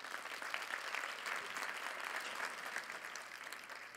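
Sustained applause from a large audience at a travel presentation, dense and steady clapping filling the whole stretch without a break.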